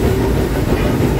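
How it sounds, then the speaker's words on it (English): A Disneyland train rumbles past close by near Big Thunder, a loud, dense, continuous roar of wheels and cars with a faint clickety-clack rhythm. "as the train passes by us."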